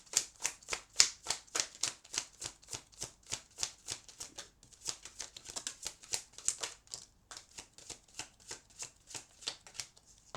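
A deck of tarot cards is riffle-shuffled over and over, producing quick rhythmic papery bursts close by, with a short pause midway before the shuffling resumes.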